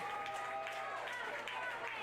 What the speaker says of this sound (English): And you hear the applause from the Pirate faithful.